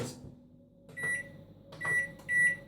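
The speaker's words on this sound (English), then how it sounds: "the microwave, this is a 750" A 750-watt microwave oven hums steadily while several short beeps sound close by, with soft clicks of buttons or a door between them.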